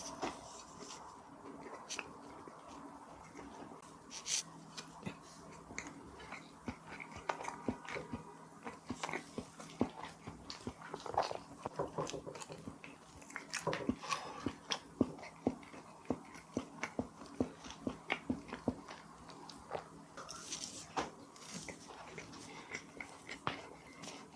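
Someone chews and bites a sweet cake shaped like banknotes, making continuous close-up mouth sounds with soft crunches and wet smacks that run on steadily for a long stretch.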